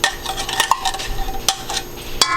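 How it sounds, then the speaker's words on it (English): Ingredients tipped into a cooking pot for rice and beans, with a run of close clinks, scrapes and rattles of utensils against the metal pot in an uneven rhythm. "Take all of it, put it in the pot."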